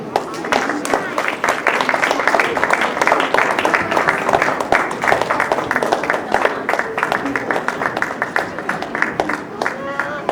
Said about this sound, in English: Once again, big round of applause for all of them.